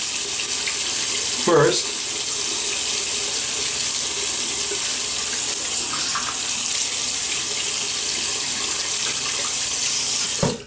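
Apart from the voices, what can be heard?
water running from a tap while wetting face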